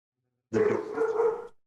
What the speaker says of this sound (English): Oh, there's my dog again.